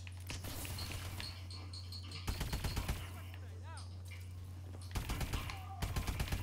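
Rapid automatic gunfire in a Call of Duty video game comes in several short bursts of fast, crackling shots, interspersed with quieter stretches and faint game effects.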